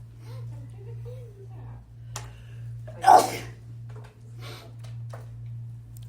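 A single sharp sneeze erupts in a quiet classroom during a math lesson, brief and close, over a low steady hum with faint scattered movement before and after.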